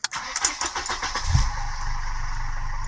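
A Mercedes car running on used cooking oil cranks and starts, with rapid starter whirring giving way to a low rumbling catch and then a steady close idle.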